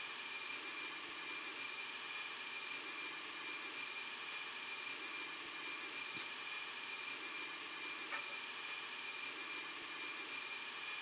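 A steady, faint drone of aircraft engines at full throttle for takeoff in a flight simulator, with a continuous even roar and no talking.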